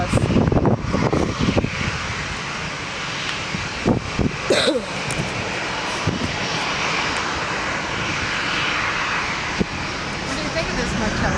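A Lufthansa Airbus A340 airliner flies over near San Diego, its engine roar a broad, sustained rumble that holds steady after a louder start, with brief people's voices under it.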